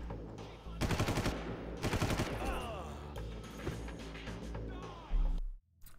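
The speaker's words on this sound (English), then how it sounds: "Bullets hurt. You shouldn't shoot people." Video game gunfire in Far Cry: rapid bursts of automatic fire crackle close and loud, several volleys in a row with shorter shots and game sound effects in between.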